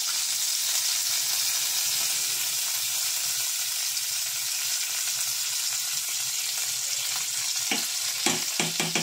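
Butter sizzling and frying with pork steak in a home kitchen pan, a loud, steady, dense crackling hiss throughout, with a few stirring clatters near the end.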